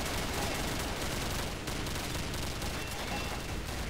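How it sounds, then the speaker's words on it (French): Sustained automatic gunfire in the video game Combat Arms, a dense, continuous barrage of shots with no pauses, loud and close. "c'est vraiment l'affaire de lui tirer dessus tout le long, pendant plusieurs minutes"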